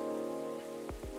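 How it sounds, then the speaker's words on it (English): Rain patters softly and steadily on a surface under a sustained tonal background in the game Coffee Talk 2, with two brief downward swooping sounds near the end. "A place to be safe while the rain falls outside."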